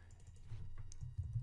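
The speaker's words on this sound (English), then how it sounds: "And now you can start typing whatever you want." Typing on a computer keyboard sounds as a quiet run of close, soft key clicks with a low thump under them, steady for a moment with no speech.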